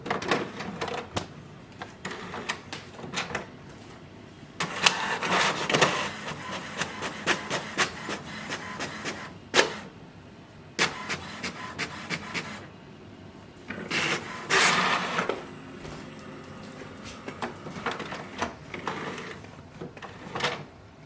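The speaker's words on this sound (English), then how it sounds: "and wait for the printer to print." An HP Smart Tank 7300 printer making a colour copy, with mechanical whirring, clicks and clunks of the print head and paper feed in irregular bursts, close and moderately loud.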